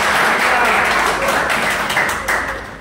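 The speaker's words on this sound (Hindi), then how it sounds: "तो उनके लिए एक बार जोरदार तालियां।" An audience at a cricket tournament presentation bursts into loud applause that holds steady, then gradually fades toward the end.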